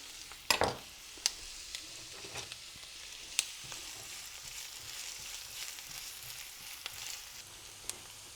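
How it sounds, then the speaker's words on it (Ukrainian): Onion fries in hot oil in a pan, a steady crackling sizzle with scattered sharp pops and a few spoon stirs, close and fairly quiet, without any voices. "Цибулька підсмажується до прозорості."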